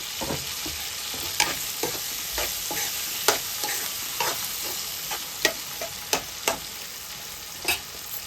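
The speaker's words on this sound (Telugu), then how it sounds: "మనం కట్ చేసిన టమాటా ముక్కలు కూడా వేసి ఈ ఆయిల్లో వేసుకోవాలి." Chopped tomato pieces and onions fry in hot oil in a pan, with a steady close sizzle broken by repeated scraping stirs of a utensil, no talking.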